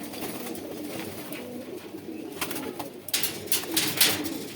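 Khoyra pigeons coo in low, soft murmurs, with brighter rustling and scuffling bursts toward the end, heard close with no talking.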